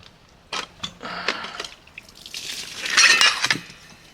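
Glass light fixture panel slides out and clinks during cleaning with water, a cluster of bright rattling chinks and scrapes building to a louder burst near the end, close and without talk.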